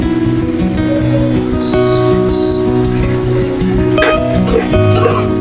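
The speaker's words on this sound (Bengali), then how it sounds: "আমি তেলে উঠে ভাজা ভাজা করে ডিম দিব এই পেঁয়াজ দিব" Egg and onion frying in oil alongside boiled vegetables on an electric stove, a steady rain-like sizzle and crackle running throughout, with some clinks and a tonal hum in the background.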